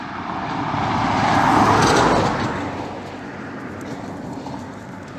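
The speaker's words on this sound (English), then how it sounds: "Nice loud car going past there." A loud car passes close by, its broad engine and tire roar swelling to a peak and then fading into steady road noise.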